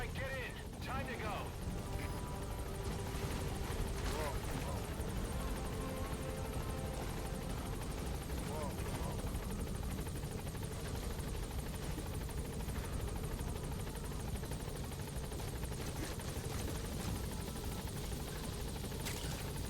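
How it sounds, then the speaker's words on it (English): Rotor drone of a support helicopter landing in the Metal Gear Solid V video game, a loud steady whir filling the scene with radio-style voice chatter over it. "Support helicopter has arrived."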